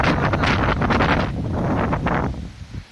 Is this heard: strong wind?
yes